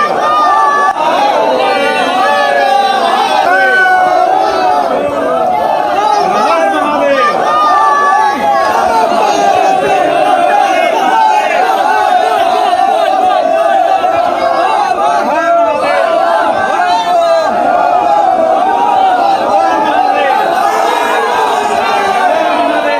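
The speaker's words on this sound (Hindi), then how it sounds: "झारखंड में भक्तों का सैलाब उमड़ पड़ा था।" A large crowd of devotees gathers at a temple in Deoghar, Jharkhand, a dense, continuous babble of many voices with shouts and cheers rising throughout, loud and close.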